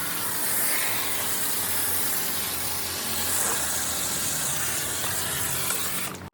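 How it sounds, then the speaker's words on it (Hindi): 3M car shampoo foam sprayed in a steady, continuous hiss onto a car's bodywork, close and loud for several seconds with no talking. "इसको हम हाफ जो बचा ऐसे ही स्प्रे कर"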